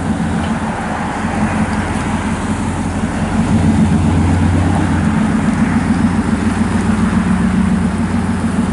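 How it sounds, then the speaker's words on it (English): A 1996 Chevrolet Silverado short-box pickup fitted with a Flowmaster dual exhaust muffler idles close by, a steady low rumble that swells slightly partway through and holds. "It's got a Flowmaster dual exhaust muffler on it."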